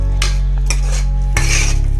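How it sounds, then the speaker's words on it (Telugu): A spoon stirring beaten eggs into mutton keema in a pan, a few loud scraping strokes and clinks of metal against the pan over a low steady hum, close with no talking. "ఇది కొట్టి పోసినాక బాగా కలుపుకోవాలి ఫ్రెండ్స్."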